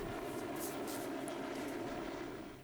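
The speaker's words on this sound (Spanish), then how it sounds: "Los helicópteros que apoyan la operación permanecen en la zona" Helicopters supporting an avalanche rescue operation give off a steady, dense engine and rotor roar that stays loud and unbroken throughout, with no speech over it.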